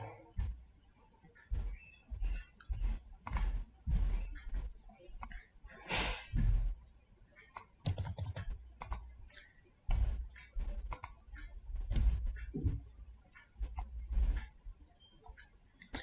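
Sharp mouse clicks come one after another in a quiet room, tapping in uneven bursts with short pauses as answer options are set up in content builder software; no one speaks.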